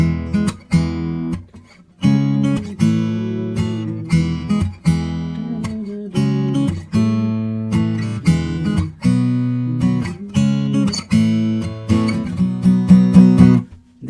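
Acoustic guitar strummed in a driving rhythm, playing the chorus of a pop song, chords ringing out loud and close, with brief pauses between phrases.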